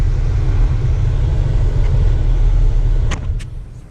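An Infiniti Q60 3.0T idles quietly with a low, steady engine hum up close, tapering off near the end with a couple of small clicks and no talk.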